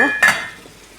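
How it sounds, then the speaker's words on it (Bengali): Onions frying in a pan: a short, close stirring scrape bursts over a soft, steady sizzle that fades within a second. "এখানে হচ্ছে আমি পেঁয়াজ ভাজতেছি"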